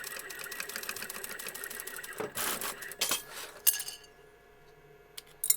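Sewing machine stitching back over a fabric seam, rapid mechanical needle clatter running for a couple of seconds, then stopping, followed by light clinks and handling noises.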